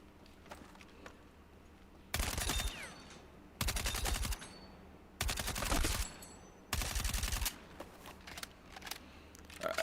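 The NVO-228E fires in Battlefield 6 in four sharp, rapid full-auto bursts, each lasting around a second and separated by brief pauses of quiet background.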